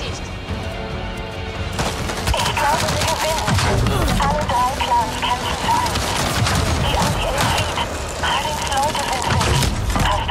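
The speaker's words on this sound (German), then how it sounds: "Wow, mit was schießen die denn?" Automatic gunfire in the Avatar: Frontiers of Pandora video game: sustained loud volleys and crashing impacts under game music, with someone talking over the shooting.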